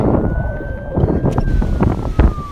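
Strong gusts buffet the microphone with heavy rumbling low noise during rain in West Texas, while a faint siren-like tone wails steadily in the background.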